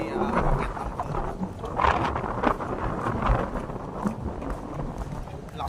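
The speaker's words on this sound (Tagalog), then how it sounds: "Lakas ang hangin kami." Strong wind buffets the microphone on a mountainside in Sablayan, Occidental Mindoro, a continuous broadband roar with gusty swells under background activity.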